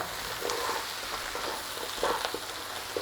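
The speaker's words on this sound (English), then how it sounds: "In there with our potato. Stir the potato through." Potato stirred in a pot for a rustic cabbage and potato soup gives a steady, fairly soft sizzle with a few light scrapes and taps of stirring, close and without talking.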